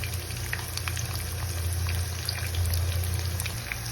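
Sliced onions frying in hot oil with mustard seeds for a Kerala soya chunks roast, a continuous steady sizzle over a low hum, close and even with no talk.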